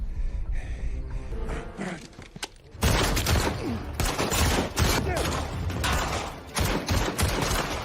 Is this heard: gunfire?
yes